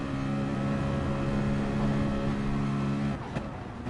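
A race car engine in GT Sport, heard from an onboard view, drones steadily and loudly at high revs for about three seconds before easing off briefly near the end.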